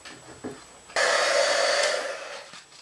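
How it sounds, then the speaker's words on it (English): A heat gun for heat embossing on a rock-and-roll stamped card switches on after about a second and blows a loud, steady, close whoosh that fades slightly toward the end. "with my heat gun"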